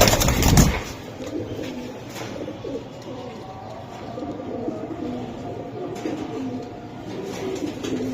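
Pigeons coo repeatedly in a loft of racer and Giribaz birds, soft low rolling calls close by over a busy background, with a brief bump at the start.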